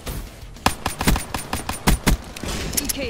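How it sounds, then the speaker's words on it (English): Bursts of gunfire in a video game crackle in quick irregular volleys, some shots sharp and close, others more distant, over a constant background hiss. "Oh, I hear some gunfire."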